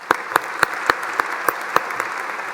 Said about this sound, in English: I think they deserve a huge round of applause for that